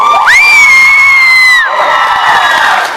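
A young audience at a Miss Sambir event screams, whoops and cheers at full volume, a dense sustained roar of many voices with children's high shrieks dominating, dipping briefly before swelling again.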